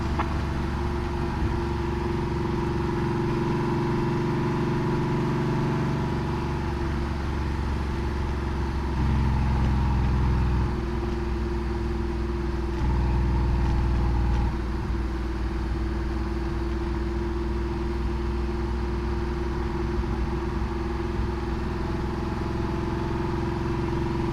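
Air-cooled Porsche 964 flat-six with cut-pipe exhaust, a loud, steady engine note close by with a deep rumble and two brief surges in revs, running alone for the whole stretch.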